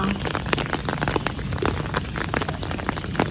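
Dense rain patters and crackles on nearby surfaces by the sea, a steady close texture of many sharp drops with no pause throughout.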